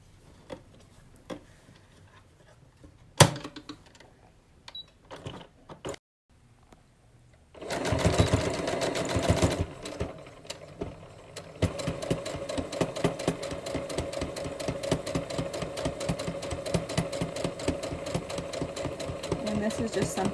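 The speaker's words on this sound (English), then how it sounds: "you're just going to sew it kind of like a C, and try to get close, really close here" A sewing machine stitching a cloth face mask starts after scattered handling clicks, running in steady rapid bursts of needle clatter and motor hum, with a person talking over it.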